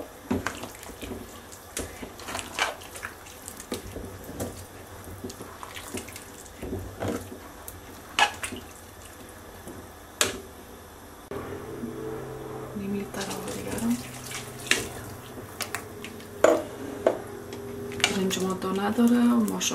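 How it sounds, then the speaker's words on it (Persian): Water pours from a tap into a cooking pot for a vegetable shola, a steady splashing run with clattering and a voice talking over it. "دوستان عزیز، نیم لیتر آب دیگه هم میگذارم"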